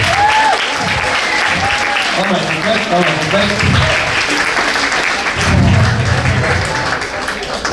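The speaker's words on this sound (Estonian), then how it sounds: "Teeme endale suure aplausi." A studio audience at a television show claps in sustained, dense applause, with a host's voice speaking over it briefly.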